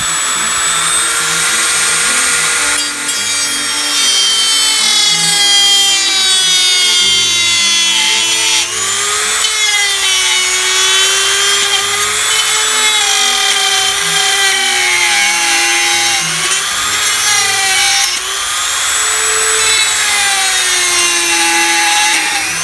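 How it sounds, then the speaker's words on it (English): A high-pitched Dremel with a quarter-inch sanding drum whines steadily and loudly, its pitch wavering slightly as it grinds a hole larger in plastic, running continuously without pause. "take my Dremel and just with a quarter inch drum sander on it"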